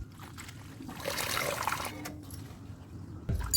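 Chopped leafy bhaji greens being washed by hand in water, with soft continuous trickling and splashing, a louder slosh near the end, close by, no voices.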